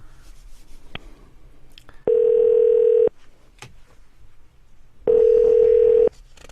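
A telephone call being connected: two steady electronic ringing tones, each about a second long and spaced a few seconds apart, over a quiet line with faint background noise.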